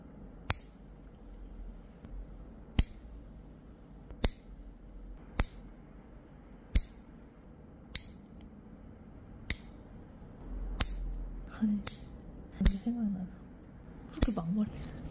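Scissors snipping men's short hair during a grooming session, a series of crisp, close metallic clicks spaced roughly every second or two, growing busier toward the end over a quiet background.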